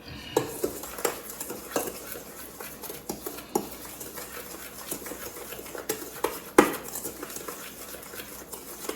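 Spoon stirring sugar into a homemade seasoned salt mix in a bowl, repeated light scraping and clinks of utensil against the container, close and quiet with uneven rhythm.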